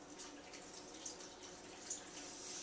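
Plain water poured for a basic green smoothie, a faint, steady trickling stream filling a container, continuous and quiet with no talk.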